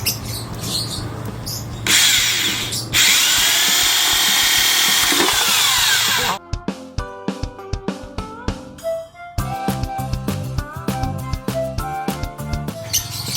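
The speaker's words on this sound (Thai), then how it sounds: "เราจะเจาะรูก่อนนะครับ" A power drill bores a hole for a three-way water fitting in a DIY automatic bird-watering setup, starting with a long loud whine, then a choppy, stuttering run of repeated bursts and clicks up close.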